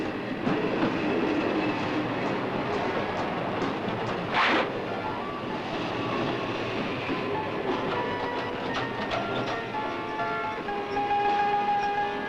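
A train runs on rails with a loud, continuous rumble and rhythmic clickety-clack that carries steadily from start to finish, with no voices.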